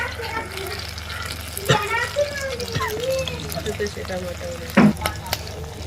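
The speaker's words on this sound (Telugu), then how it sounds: "ఇప్పుడు 2 చీల్చుకున్న పచ్చిమిరపకాయలు, కొంచెం కరివేపాకు వేసుకోవాలి." Slit green chillies and curry leaves sizzle and crackle softly in hot oil in a pan for a home-style fish curry, under a steady low hiss, with someone talking over it.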